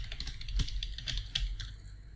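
An email address being typed on a computer keyboard, a quick run of light, close key clicks in an uneven rhythm with a couple of heavier strokes, fairly quiet and without any voice over it.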